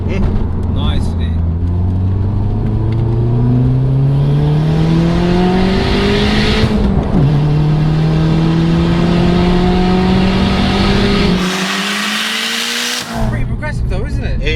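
A 500 bhp Toyota Celica GT-Four rally car accelerating hard, its engine climbing through long rising pulls with a brief gear change midway, loud and close, ending in a short drop before resuming.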